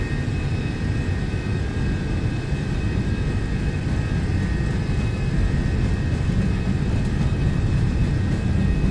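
Jet engines of an MD-11 airliner spooling at takeoff thrust in the X-Plane flight simulator, a steady, loud broadband roar with a low rumble and faint high whine, continuous throughout with no talking.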